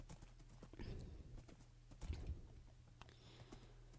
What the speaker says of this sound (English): All these horses out here stink.